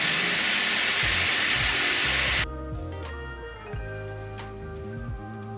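A Dyson Airwrap hair styler blows a loud, steady rush of air for about two seconds, then cuts off abruptly, leaving quieter room sound with faint handling noises.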